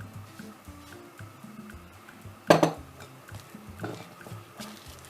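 Spoon scraping and clinking in a bowl while stirring a stiff flapjack mixture of dough and golden syrup, soft irregular strokes with one sharp clatter partway through.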